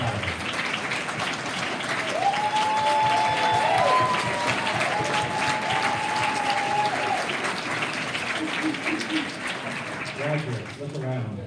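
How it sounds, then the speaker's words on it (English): Graduates applaud loudly and continuously at a university school of education graduation ceremony, a thick roar of clapping with a sustained voice over it partway through and some talk toward the end. "Graduates, clap hard."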